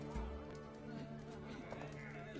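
Hooves clip-clop from a horse being ridden in The Witcher 3: Heart of Stone. The brief, close trot sits under a voice.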